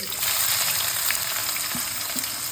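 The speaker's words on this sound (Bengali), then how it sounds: "এই পেঁয়াজ কুচিটা এর মধ্যে দিয়ে দিচ্ছি" Two hundred grams of chopped onions drop into hot oil in a pan for an echor chingri curry, and a loud, dense sizzle of frying follows close by, holding steady with a few soft clinks, no voices.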